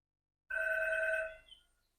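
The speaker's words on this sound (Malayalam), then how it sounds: "ഫോൺ ബെല്ലടിക്കുന്നു." An old-style telephone bell rings once in a single bright, sustained burst from a movie scene, about three quarters of a second long, then dies away into silence.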